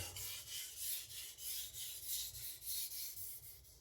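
A MagnaCut steel chef knife rasps across a sharpening stone in steady, even strokes, roughly two per second, each a gritty scraping swell. The strokes are close and moderately quiet, with no voices.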